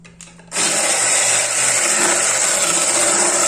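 A hand mixer starts abruptly and whirs steadily, loud and close, whipping cream into chantilly for a banoffee filling, with no talk over it.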